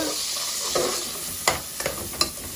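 Tomatoes fry in a pan for a Sylheti tomato khatta, with a steady soft sizzle broken by several sharp scraping stirs of a spoon against the pan.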